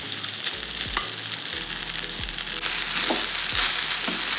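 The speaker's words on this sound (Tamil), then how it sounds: "ரைஸ் போட்டு நல்லா கலந்து விட்டுக்கோங்க" Rice is stirred into fried onions and dried red chillies in a pan, giving a moderate sizzle broken by several scraping strokes and light clinks of the spoon, with no voices.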